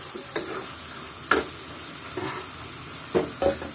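Onions frying in oil in a pan for a village-style spicy fish curry, a steady close sizzle broken by a few sharp scrapes and knocks of stirring spaced through the passage, with no talk.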